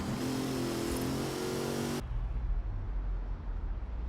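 A Mitsubishi Starion's engine in Forza Horizon 4 revs hard with a bright, buzzing whine, then cuts to a deeper, muffled rumble from inside the cockpit.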